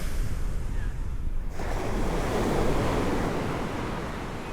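Ocean surf washes onto a wide, nearly empty beach at Lo De Marcos, a steady broadband roar that swells after a quieter opening, with wind buffeting the microphone throughout.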